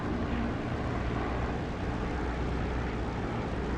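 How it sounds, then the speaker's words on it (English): An aircraft engine near a runway in the DCS flight simulator game gives a steady, moderate broadband roar with no clear change in pitch across the few seconds. "listen for the engine volume to pick up as I get just above the runway"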